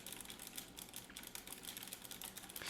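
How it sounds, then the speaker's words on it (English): Quiet, steady clicking of keys on a computer keyboard, picked up by a Tonor TC30 budget microphone, an irregular rapid patter of keystrokes with no speech. "And now I'm just typing."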